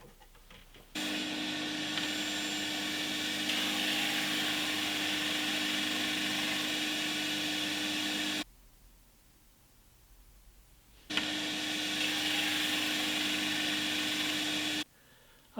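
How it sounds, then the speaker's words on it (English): Power sander thinning a SuGar SG1 acoustic guitar top plate: a steady motorized whine with grinding texture runs for several seconds, stops briefly, then starts again for another long stretch. "So I am actually sanding the cup out of it"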